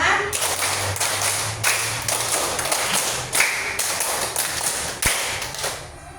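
Classroom students clap in unison, a rhythmic five-beat pattern repeated three times, bursts of hand claps fairly close and loud with some room noise between groups.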